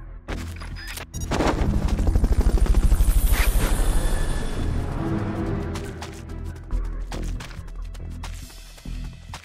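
Helicopter in the video game Metal Gear Solid: Peace Walker, a loud, steady rotor chop with a thumping pulse that peaks early, mixed with bursts of gunfire and game effects.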